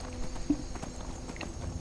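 Horse hooves in the video game Skyrim clop in a quick, steady rhythm, moderately close, with a slightly stronger hit near the middle, and no talking over them.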